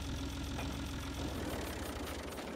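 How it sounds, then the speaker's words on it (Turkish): A tractor engine idles in Farming Simulator 22, a steady low mechanical rumble with a faint rhythmic knock, continuous and fairly quiet with no talk over it. "Oh, traktör çekmiyor ki."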